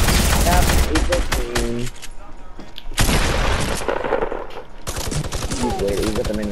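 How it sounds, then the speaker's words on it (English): Rapid bursts of minigun fire in the Fortnite video game, loud and dense, coming in three long sustained volleys separated by short gaps, with no talk over them. "He's with the minigun."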